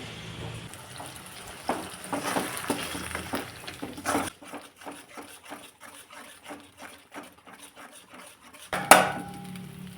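Tomato, onion, ginger and garlic sautéing in oil in a pan, with a soft steady sizzle and repeated scraping and clinking of a spoon against the pan, close and fairly quiet.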